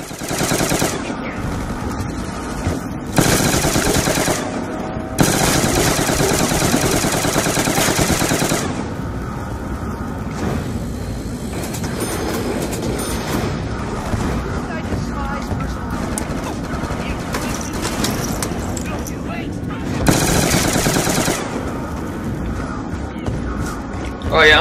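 Fully automatic gunfire in Black Ops 2 Zombies, bursts of loud sustained firing coming in several runs, the longest lasting a few seconds, over constant game noise with players talking throughout.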